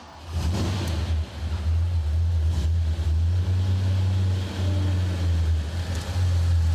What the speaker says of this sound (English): Drive off with the melodious fanfare of 8 cylinders.